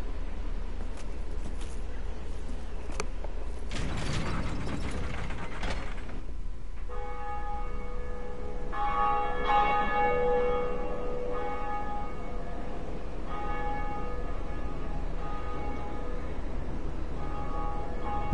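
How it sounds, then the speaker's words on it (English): The first bell of awakening in Dark Souls Remastered rings out, struck several times in a belfry, with deep resonant tolls and long, shimmering decays over steady rumbling ambience. "Now we can ring the first bell of awakening."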